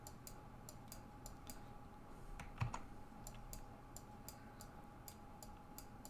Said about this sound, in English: if I could stop double clicking